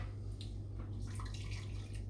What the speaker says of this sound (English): every time that you pour the water into a new vessel, the water temperature drops about 5 to 7 degrees Celsius